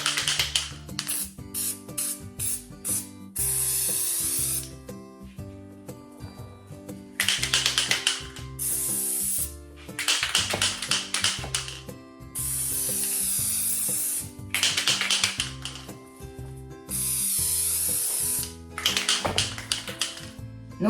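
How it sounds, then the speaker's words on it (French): A shaken spray can sprays green velvet flocking onto Christmas entremets in several hissing bursts of one to two seconds, with clicking, tapping mechanical sounds and a rhythmic beat between them; no speech. "J'agite la bombe et je floque."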